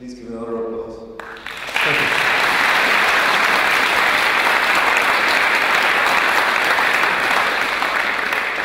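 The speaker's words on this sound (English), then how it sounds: "please give another round of applause" A conference audience breaks into sustained applause after a talk, starting after a brief voice and then holding loud and dense until the end.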